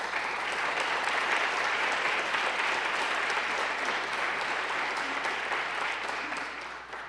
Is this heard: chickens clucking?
no